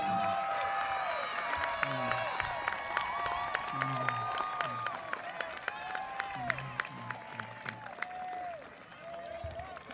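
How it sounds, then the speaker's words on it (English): At a 2025 high school graduation ceremony, graduates stand and clap for their parents: sustained applause from a large crowd in a big hall, steady throughout with scattered louder claps. "I would like all of our graduates at this time to stand and clap for your parents and support system."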